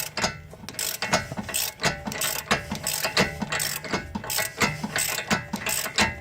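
A ratchet clicks rapidly through repeated strokes while loosening the front wheel bearing on a 2013 Hyundai Sonata. The pawl chatters in close, loud bursts with brief pauses between swings.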